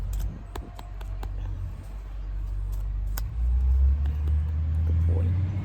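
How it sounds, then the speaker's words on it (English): A garbage truck rumbles past outside, a deep, steady low engine drone that swells slightly toward the end, with a few faint clicks and taps indoors over it. "That's the garbage truck."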